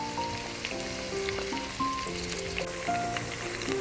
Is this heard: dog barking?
no